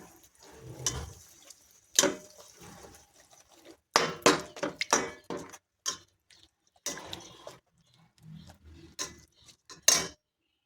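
A metal spoon stirs a tamarind tempering in a pan for bitter gourd pickle, giving scattered sharp clinks and scrapes against the metal at irregular intervals over a quiet background, with no talking.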